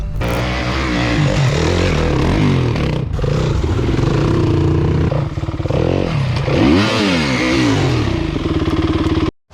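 A 2021 Yamaha WR250F dirt bike engine revs hard and steadily for several seconds, rising and falling in pitch with loud, close, rasping exhaust and clatter, cutting off at the end.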